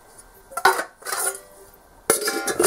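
A metal camping pot and lid are handled in short bursts, with clinks and scraping knocks close by, separated by brief quiet gaps.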